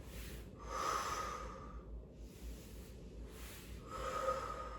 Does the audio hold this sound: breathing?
yes